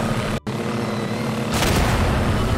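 A powerful cannon fires in Garry's Mod as a sudden loud boom that breaks through a continuous rumbling drone, then trails off into a harsh rushing roar.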